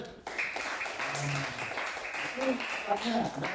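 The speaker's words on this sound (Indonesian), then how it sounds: "tepuk tangan untuk Mata" Scattered classroom applause for a student during a Hindu religious education lesson, a light patter of clapping with children's voices chattering over it.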